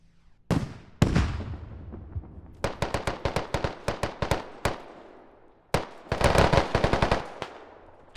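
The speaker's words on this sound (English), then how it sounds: "Oh, shooting through the walls." Video game gunfire in a BLUFOR vs ProG match: players shoot through walls in a loud close shot, a heavy blast, then rapid automatic bursts and another flurry of sharp cracks after a short pause.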